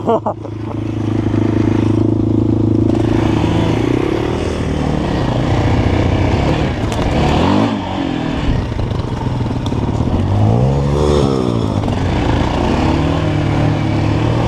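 A 250cc pit bike or dirt bike engine revs hard and continuously, rising and falling in pitch through several throttle bursts, loud and close, with excited voices shouting over it.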